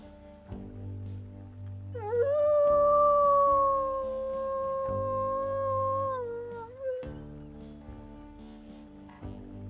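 A single long wolf howl from the WolfQuest video game rises, holds steady for several seconds and then drops away, loud and clear over soft, low game music.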